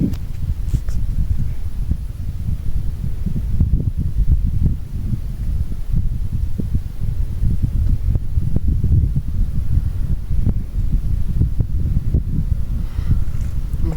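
Wind blows steadily outdoors at a castle keep, a low continuous rumble and buffeting against the microphone that holds at a fairly even strength throughout.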